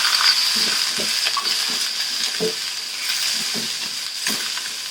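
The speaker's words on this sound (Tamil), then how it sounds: "வெங்காயம் போட்டு நல்லா வணக்குங்க" Onion sautéing in oil in a pan for a South Indian mutton gravy: a steady, close sizzle runs throughout, broken by irregular scraping taps of a stirring spoon.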